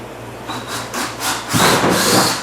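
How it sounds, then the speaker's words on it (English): A power drill bites into plastic in a couple of short, loud grinding bursts, the pitch rising as it cuts through. "Now I can drill a hole."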